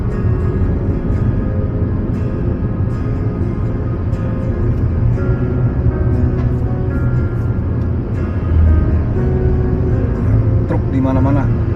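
Busy road traffic between Surabaya and Pandaan in East Java, with cars, trucks, buses and many motorbikes making a loud, continuous rumble and engine drone, while someone talks over it.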